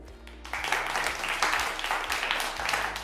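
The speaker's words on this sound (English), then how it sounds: "that is something worthy for us to clap for" An audience at a business talk on Ghana's poultry industry breaks into steady applause, moderately distant and sustained, with a low hum underneath throughout.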